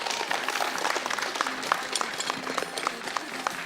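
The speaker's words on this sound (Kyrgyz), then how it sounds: "Кол чаап койсоңуздар болот." Close, lively applause from a studio audience at a Kyrgyz television show, dense clapping with a few sharper individual claps standing out over the steady patter.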